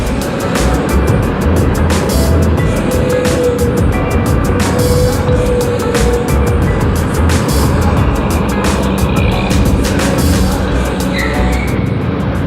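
Honda Click 125i scooter riding over rail bumps, with a steady, loud rush of engine and road noise and wind running throughout, while a faint series of small knocks from the crossing passes under it.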